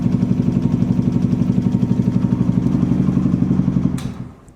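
A small-capacity motorbike engine revs steadily at close range, its rapid pulsing firing beat holding strong for about four seconds before the revs drop away and the engine winds down.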